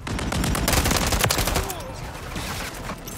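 Rapid bursts of automatic gunfire in Call of Duty: Modern Warfare III on the Scrapyard map, loud and close, a dense volley for about a second and a half before easing into scattered shots.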